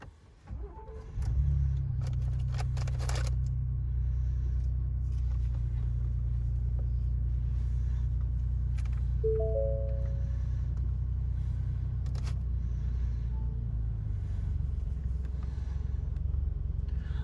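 A Ford Expedition Max with the 3.5 EcoBoost engine pulls away while towing a trailer. A steady, low engine rumble rises after a brief start and holds for the rest of the time.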